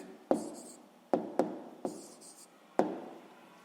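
Pen strokes and taps on paper during a sixth-grade maths exercise, five distinct sharp contacts each trailed by brief scratching, close and fairly quiet, with no talk.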